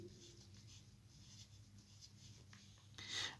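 Marker writing small letters on a board, a soft scratchy patter of strokes close by, quiet and steady, ending with a brief louder squeak.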